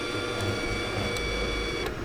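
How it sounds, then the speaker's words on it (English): Steady mechanical whir of a BestArc Gen 7 budget MIG welder's wire feed motor pushing wire through the torch, constant and close, with a few faint clicks and no talk. "So we'll feed our wire."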